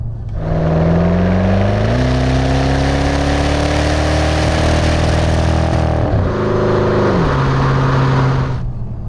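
A Maserati 3200 GT engine pulls hard under full throttle, rising steadily in pitch, briefly dipping at a gear change, then climbing again, loud and close from inside the car.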